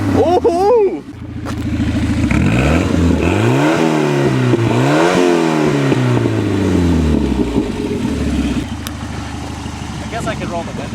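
Volvo car engine revving hard up and down in repeated sweeping surges, loud and close, before easing back toward a steadier idle near the end.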